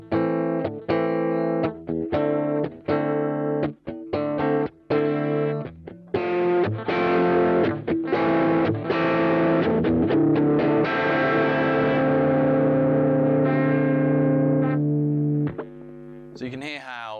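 Electric guitar run through a Boss OD-3 overdrive pedal with the drive turned all the way up, playing a sequence of heavy, distorted chords and notes. The tone is thick and sustained, with a long ringing chord near the end, loud and close, without talk.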